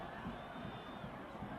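Football stadium crowd at a Phoenix Rising FC versus Tacoma Defiance match, a distant, low-level murmur and clamor of fans appealing for a foul, steady throughout with no voices standing out.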